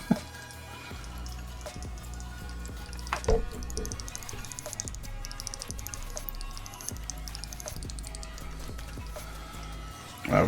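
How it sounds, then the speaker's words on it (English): A Mr. Beast Lab Swarms capsule fizzes and bubbles in water, giving a soft, steady stream of small pops and drips close by, with a few brief louder splashes. "Oh, you can see it fizzing a little bit. It's splashing out."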